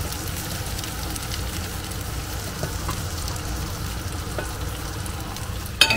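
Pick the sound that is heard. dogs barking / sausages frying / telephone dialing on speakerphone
sausages frying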